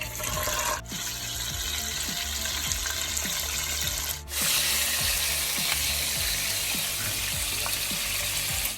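Pork belly frying in extra-hot oil for a Jamaican-style dish, giving a loud, steady crackling sizzle throughout with a brief dip partway through.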